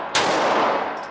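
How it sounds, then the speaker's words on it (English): A handgun fires one loud, close shot on a deputy marshal court security shooting course, a sharp blast followed by a brief ringing decay. "Firing 2 rounds, center mass, in 6 seconds."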